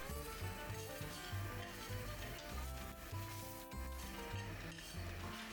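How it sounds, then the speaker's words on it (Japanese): Julienned carrots stir-fry in sesame oil in a pan, a steady close sizzle with light scraping and stirring throughout, heard over soft background music. "ごま油をひいたら人参から炒めます。"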